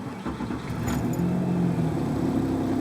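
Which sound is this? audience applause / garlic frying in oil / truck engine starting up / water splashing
truck engine starting up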